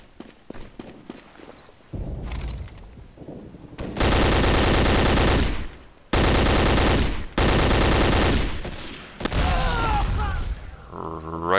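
Sustained automatic gunfire in the World War II shooter Day of Defeat: Source, with several long, loud bursts separated by short gaps, following quieter scattered shots and footsteps at the start.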